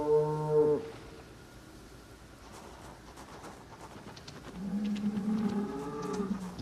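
Cows mooing on a farm in the video game Project Zomboid, a loud moo at the start and another drawn-out lowing call near the end, with quiet ambient game sound between.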